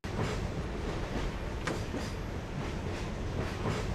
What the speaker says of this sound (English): It's like being drowned out by the train